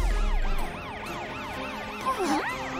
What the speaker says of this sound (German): Polizeiauto, lass uns deine Sirenen benutzen